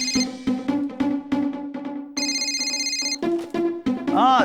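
A phone ringtone plays during an outgoing call to an electronics shop in a family sitcom: repeated bright electronic chiming phrases, loud and close, with brief vocal sounds near the end.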